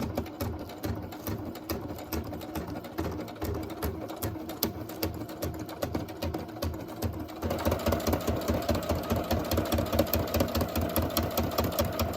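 A sewing machine stitching a paper envelope runs in a steady, rapid mechanical chatter, growing louder and more rhythmic partway through, with no talk.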